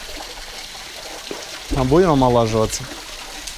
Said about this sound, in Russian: вот водопад купель молодости